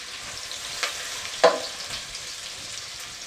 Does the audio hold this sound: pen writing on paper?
no